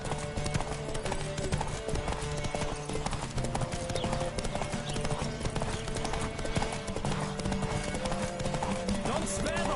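A horse gallops in a PS4 video game: rapid, continuous hoofbeats pound steadily up close, layered over dense game sounds.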